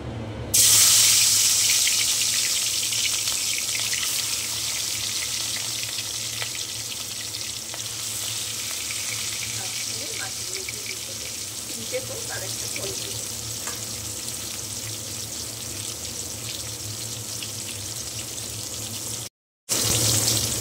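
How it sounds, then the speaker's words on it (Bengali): Fish frying in hot oil over a medium flame, a steady close sizzle and crackle running throughout with a brief dropout near the end. "মিডিয়াম ফ্লেমে একটু সময় ধরে মাছগুলোকে ভাজতে হবে"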